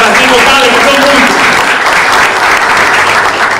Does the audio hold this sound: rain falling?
no